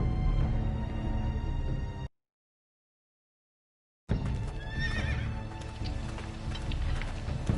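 A horse whinnies over a dense, loud bed of hoofbeats and movement, with a gap of silence partway through before the neighing and clip-clop resume.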